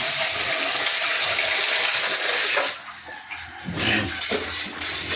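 Water pours and gushes in a steady broadband splash for most of the clip, briefly dipping before resuming strongly, fairly close with no talk over it.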